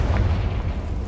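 A Confringo blasting spell explodes in Hogwarts Legacy, a short, heavy booming burst with deep low rumble filling the whole moment, close and loud, without any voices.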